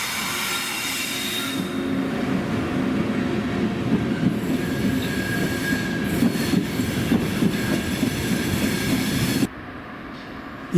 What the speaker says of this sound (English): another Freccia Bianca intercity train from Genoa prepares to stop at the station